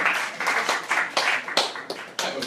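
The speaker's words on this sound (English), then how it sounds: "I wasn't really looking for your applause." A comedy club audience at Brooklyn Commons breaks into scattered applause. Uneven claps swell and dip in short waves for a couple of seconds, with no voice over them.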